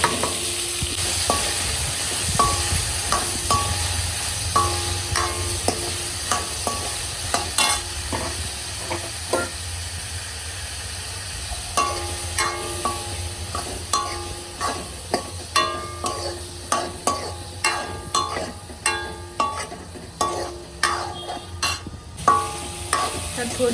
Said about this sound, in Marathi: मस्त फ्राय करून घेऊ.